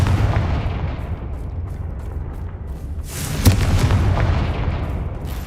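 A Confringo explosion spell in Hogwarts Legacy erupts with a heavy, sustained rumbling blast, a sharp crack cutting through mid-way, loud and close, with no talking over it.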